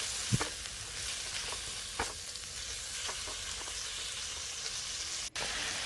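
Precooked beef stir-fried in a pan, a steady close sizzle with occasional soft stirring knocks and scrapes running throughout.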